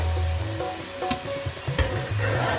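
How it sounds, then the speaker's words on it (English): Chillies fry in hot oil with a soft, steady sizzle, broken by a few sharp clinks and scrapes of stirring nearby. "I'm frying the remaining buttermilk."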